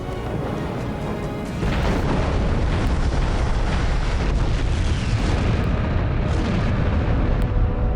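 Missiles and turret fire bring down a Separatist ship in a Star Wars video game, heard as dense, continuous booming blasts and explosions. The barrage jumps louder after the first couple of seconds and stays heavy and unbroken to the end.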